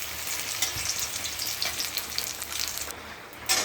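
Pumpkin frying in hot oil in a home kitchen, a loud continuous sizzle with occasional stirring scrapes, briefly quieter near the end before flaring up again, no voices.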